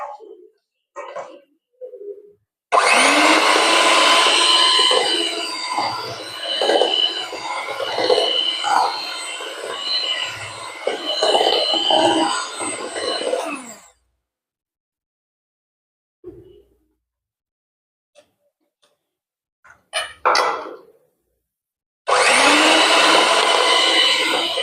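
An electric mixer beats sunflower oil and sugar into a butterless cake batter, whirring loudly and steadily for about ten seconds, falling silent apart from a few small knocks, then starting again near the end.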